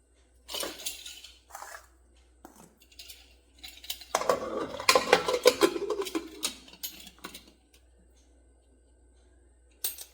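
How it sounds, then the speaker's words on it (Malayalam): A pressure cooker lid being fitted and closed: metallic clinks and scrapes, then a burst of rattling and clattering, followed by quiet. "ഇനി നമുക്ക് ഈ കുക്കർ അടച്ചു കൊടുക്കാം"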